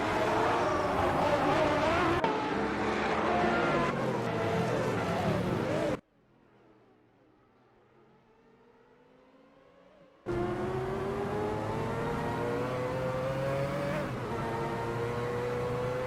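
Race cars in a Group C racing video game, a loud continuous engine roar with shifting pitch that cuts to near silence for a few seconds, then resumes just as loud.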